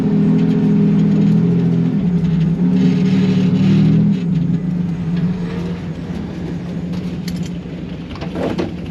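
A car driving in first gear at an autocross event, with a loud, steady engine drone that eases and shifts in pitch, joined by mechanical rattles and a late clatter.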